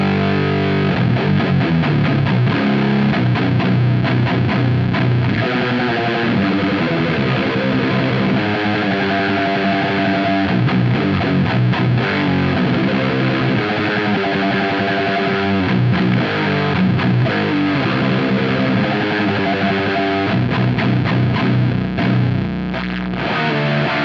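Electric guitar played through a Boss Mega Distortion pedal at full gain, chugging heavy doom-metal riffs with thick, noisy saturation, loud and continuous with no talking.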